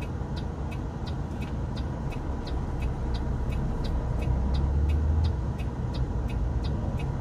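A Mercedes-Benz Axor 2041 truck driving through narrow city avenues, a steady low engine drone with road rumble under a faint regular ticking, slightly heavier toward the middle.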